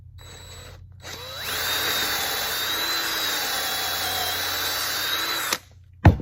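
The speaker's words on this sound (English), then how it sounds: "Drill the hole." An electric drill whines loudly and steadily as it bores a hole through tile, winding up at the start and cutting off abruptly, close by.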